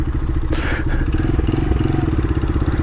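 A street-legal Honda XR100R dirt bike idles nearby with a loud, even, throbbing putter, and a brief hissy burst of noise cuts in near the start.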